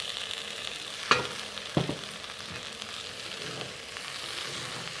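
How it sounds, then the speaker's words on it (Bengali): Boiled potatoes fry in hot oil with a steady close sizzle, broken by two sharp clatters of a spoon against the pan as the pieces are stirred. "এবার এর মধ্যে দিয়ে দিচ্ছি আমি সিদ্ধ করে রাখা আলু"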